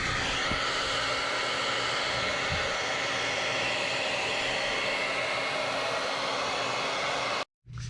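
A heat gun roars in a steady, loud, continuous blow while warming LED underglow strips on a car, cutting off abruptly near the end.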